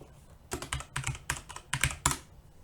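Keys clatter on a computer keyboard in short uneven bursts of quick, close taps, fairly quiet, with no one speaking.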